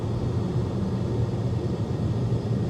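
Inside a 2023 Cadillac XT4 Sport on upgraded wheels, road noise seeps into the cabin as a constant low rumble and hum, steady and even with no voices.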